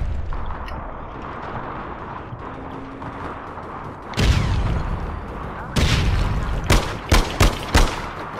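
A less-lethal grenade launcher fires in the video game APB Reloaded, with several sharp, loud blasts in quick succession following a quieter stretch of background game ambience.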